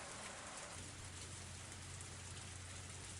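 Heavy, steady torrential rain from the Higurashi visual novel, a dense unbroken downpour wash at even loudness throughout, with a low steady hum underneath and no voices.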